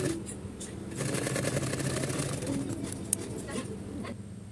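Sewing machine running a line of stitches along trouser fabric for a gota patti design, a steady rapid whirring chatter lasting the whole stretch, close and moderately loud without talk.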